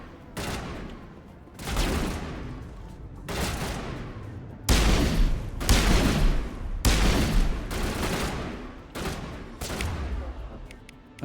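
Pistol shots in the video game Mass Effect Legendary Edition: about eight loud, booming single shots spaced roughly a second or two apart, each with a ringing tail, close and prominent.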